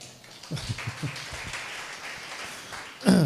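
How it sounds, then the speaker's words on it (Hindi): Scattered, weak claps from a small church congregation, soft and uneven, then a louder thump near the end. "ऐसी सुस्त ताली अपने पास रखो।"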